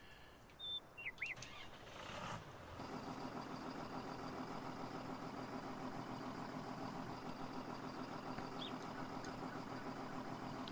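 After a few faint chirps, a John Deere 948L logging skidder engine in Farming Simulator 19 starts up and settles into a steady, low idling rumble that holds evenly to the end.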